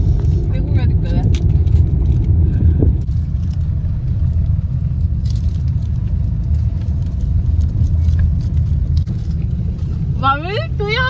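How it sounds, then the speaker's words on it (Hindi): A car rolls along slowly, its low engine and road rumble steady and close throughout, with brief voices at the start and near the end. "अच्छा गाड़ी स्लो चलती रहेगी ना"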